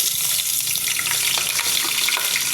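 Chopped onion, garlic and ginger hiss and crackle in a hot pan, a close, busy sizzle with light stirring clicks and no talking over it.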